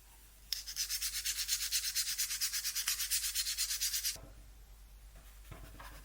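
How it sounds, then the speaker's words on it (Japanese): A cut brass plate for a shoe heel is polished with rapid back-and-forth rubbing strokes, a steady rhythmic hiss lasting about four seconds, close and clear, then stopping, with no talk. "切り出した真鍮プレートに穴を開け、これを磨いていきます。"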